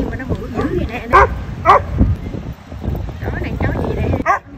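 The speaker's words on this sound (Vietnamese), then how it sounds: "Chó gì mà nó bự dữ vậy nè." A large dog barks several times close by on an outing in Massachusetts. The deep woofs and yips are mixed with people talking nearby.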